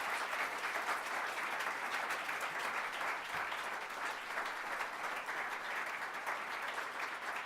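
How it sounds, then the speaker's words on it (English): Sustained audience applause at an awards event honouring shortlisted nominees, a steady, even wash of many hands clapping at moderate distance with no pauses. "I'd love one more round of applause"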